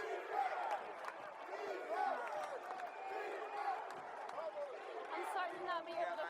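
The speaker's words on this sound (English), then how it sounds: "this crowd coming to life" A women's football league stadium crowd, Omaha Heart versus Atlanta Steam, roars in a steady, distant swell of cheering beneath a commentator's continuous play-by-play voice.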